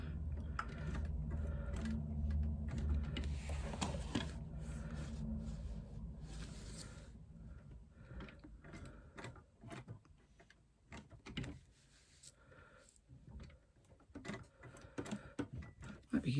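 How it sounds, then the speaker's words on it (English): A hand-cranked sewing machine stitches at an anniversary sewing event, giving a steady mechanical whirring and clicking of gears that runs loud at first, then turns softer and more broken with uneven ticks. "Might be easier if I put the stiletto down to turn this hand cranking."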